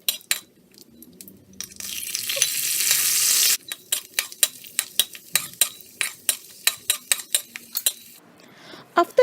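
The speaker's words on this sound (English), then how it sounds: "In a separate wok, let's fry the dried nuts and the raisins." Dried nuts and raisins frying in a tablespoon of oil in a wok: a burst of hissing sizzle, then a long series of regular metallic scrapes and clinks from stirring, close and clear with no talk.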